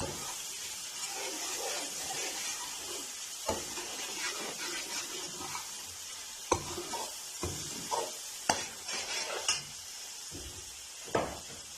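Ginger garlic paste stirred in a pan, with steady sizzling under repeated scrapes and taps of a spoon against the metal, several sharper clinks standing out toward the end.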